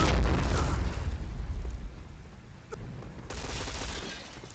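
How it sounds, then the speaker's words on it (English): Gunfire at a bomb site in the shooter Project Blackout, a dense roar of bursts and booms, loudest at the start, easing off, then surging again with a sharp crack midway. "some early gunfire happening over here at bomb site B"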